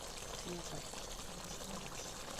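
Water is poured into a cooking pot of bottle gourd and chicken, a soft brief trickle and splash heard faintly with a voice speaking over it.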